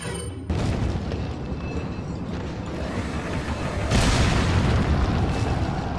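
Heavy blast from a grenade in Resident Evil 4, a sustained roaring boom that swells and stays loud for several seconds, with rumbling debris and game noise and no voice over it.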